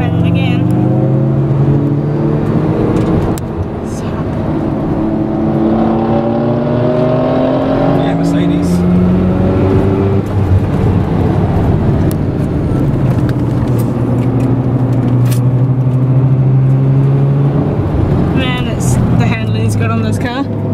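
Car engine running steadily at speed on an international racing circuit during a cruise session, with rising and falling gear-change tones throughout, close and loud, with talk heard over it.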